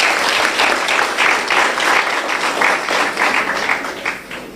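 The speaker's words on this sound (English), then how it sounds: "Please give them a round of applause." A large audience applauds teams from several secondary schools at a credit union education quiz, a dense, loud, continuous clapping that holds steady for several seconds and then begins to taper.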